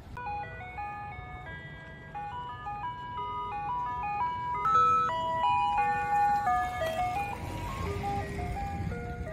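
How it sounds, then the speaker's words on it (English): An ice cream truck passes by playing its tinkling melody, steady and fairly close over a low engine rumble, growing slightly louder midway. "Thank you, ice cream truck guy."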